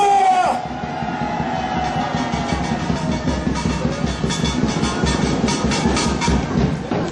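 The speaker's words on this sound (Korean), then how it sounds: "우리 격려 박수 한번 함성 치자!" A crowd at an outdoor political rally by Daehanmun gate cheers and applauds, its loud, rumbling roar swelling and holding for several seconds after a short shout.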